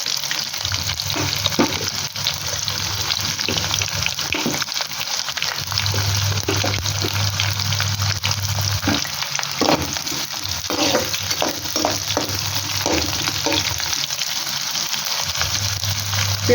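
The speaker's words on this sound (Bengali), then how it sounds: "এরপরে যে কাটা পেঁয়াজ ছিল পেঁয়াজগুলো" Chopped onions fry in oil for chicken kosha, a continuous close sizzle with intermittent scraping and tapping of a spatula stirring them, plus a low steady hum underneath and no talking.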